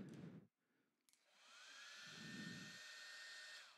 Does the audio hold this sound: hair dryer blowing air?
yes